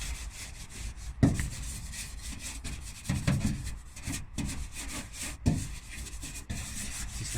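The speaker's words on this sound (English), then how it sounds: "we're doing is just working it all in with a detailing brush" A detailing brush scrubs degreaser into a car engine bay, giving soft, steady bristle rubbing with a few sharper scraping strokes, close and fairly quiet, with no talk.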